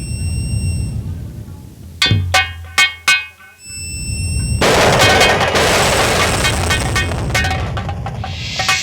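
Several sharp gunshots crack in a quick burst, followed by a sustained roar of rapid firing and rumbling noise.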